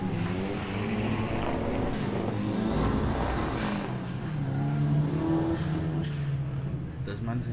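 A rally car's engine revs and drones steadily during a Witzenberg Motorklub gymkhana run, with wind buffeting and a commentator talking over it throughout.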